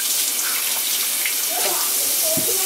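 Tap water runs in a steady rushing stream into a sink while hands are washed, loud and close, with a child's and an adult's voices speaking faintly over it.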